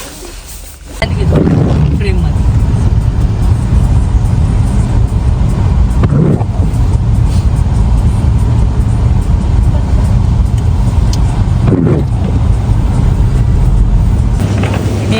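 A car engine turns over and settles into a steady idle, then keeps running continuously, with a couple of thumps like doors or movement at intervals, in a snowy setting where there's been six days of snowfall.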